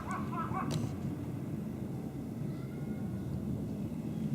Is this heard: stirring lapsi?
no